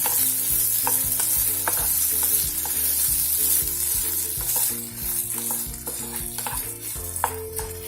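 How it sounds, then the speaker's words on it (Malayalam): Potatoes fry in coconut oil in a non-stick pan with a steady close sizzle, while a spatula stirs them in repeated scraping strokes over a background of tonal music. "ഇടയ്ക്കിടയ്ക്ക് ഇളക്കി കൊടുക്കണം."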